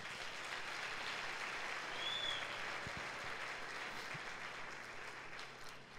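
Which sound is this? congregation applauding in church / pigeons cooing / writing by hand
congregation applauding in church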